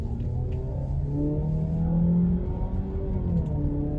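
Jeep Compass Trailhawk accelerating, heard from inside as a steady, loud engine drone that climbs in pitch through the gears, continuous with no talk.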